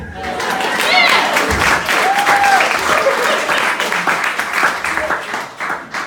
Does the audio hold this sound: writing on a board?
no